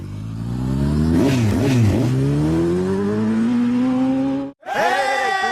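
A motorcycle engine revving hard, rising and falling through several throttle blips before a long climbing roar, cutting off briefly and then surging again, loud and close amid a lively crowd.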